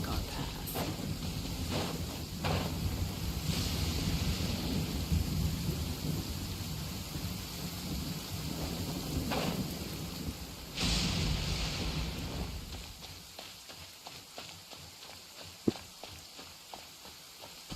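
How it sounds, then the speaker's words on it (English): Thunder rumbles and rain pours steadily in Genshin Impact, with deep rolling booms swelling twice over the downpour before the storm thins to lighter patter and a sharp click near the end. "What's a little thunder when even lightning wouldn't dare strike our path?"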